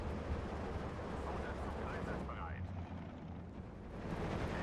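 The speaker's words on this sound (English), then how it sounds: "They're bombing my Valkyr in the open." Bombs falling on a vehicle in the open during a Vistula campaign battle of Steel Division 2: a continuous heavy rumble of overlapping explosions that stays loud and dense throughout.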